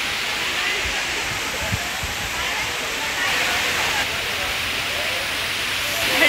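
Water cascades down the stone steps of Kaas Lake like a waterfall, a loud, steady broadband rushing that fills the whole clip with only faint background activity beneath.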